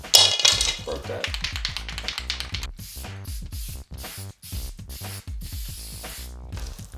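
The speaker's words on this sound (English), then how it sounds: "To help hide the foam buck, I first tried to hit it with some black spray paint." Black spray paint hisses onto a foam buck in a series of loud, close bursts with short pauses between them.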